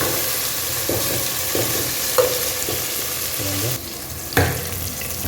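Diced tomatoes and eggplant fry in a pan for a fish curry, giving a steady close sizzle with occasional stirring scrapes and clinks over it.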